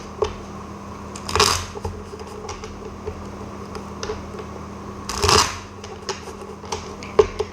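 Tarot cards being shuffled by hand, soft riffling and light taps with two louder bursts of shuffling, close and quiet, no voice.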